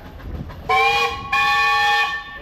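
A steam traction engine whistle at an antique power parade blows two loud, sustained, harmonically rich blasts, the second following after a brief break and holding longer before fading.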